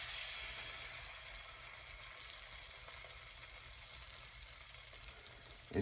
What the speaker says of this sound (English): we're gonna take our reconstituted eggs. We've got a little butter melted in the pan already